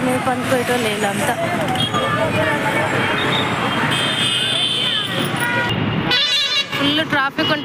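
Busy roadside traffic near Isnapur roars with buses and vehicles, a dense loud wash broken by repeated horn toots, while people talk over it nearby.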